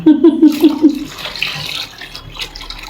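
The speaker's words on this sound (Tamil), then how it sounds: "ஜாரை கழுவுனீ உள்ளே ஊற்றிட்டீங்க" Water sloshes and splashes as a blender jar is rinsed out while making thuthuvalai rasam, a close, short pour lasting a couple of seconds in a kitchen.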